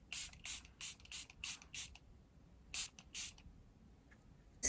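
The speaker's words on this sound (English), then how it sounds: "I'm going to be using the Makeup Revolution Superfix Super Hold Misting Spray, which is another setting spray that I do use." Several short hissing bursts of Makeup Revolution Superfix Super Hold misting setting spray, about seven quick puffs in a loose rhythm followed by a pause and two more, close and fairly faint with no talking.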